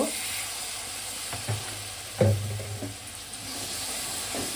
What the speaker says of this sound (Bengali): দিয়ে মশলাটাকে আমি একটু জল দিয়ে ভালো করে কষিয়ে নেব।